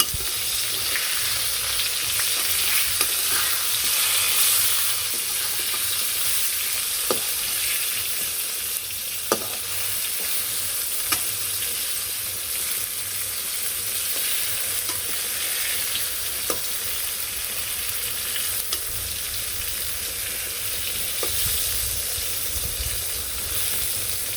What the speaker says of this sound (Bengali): যে সবগুলো বেগুন দিয়ে দিচ্ছি আস্তে আস্তে বেগুন ভাজিটা হয়েছে